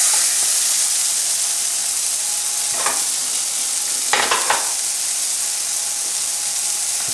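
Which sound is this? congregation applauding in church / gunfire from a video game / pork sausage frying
pork sausage frying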